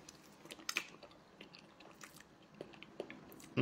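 Crunchy food is bitten and chewed close to the mic, with a string of sharp crisp crunches and softer chewing between them, quiet overall and ending on a louder snap.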